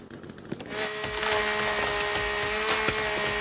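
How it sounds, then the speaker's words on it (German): A chainsaw tears into wood in the survival game The Forest, a steady buzzing whine with splintering crackle that rises after the first second and holds loud and unbroken to the end. "Du musst die Kettensäge auch bewegen, ne?"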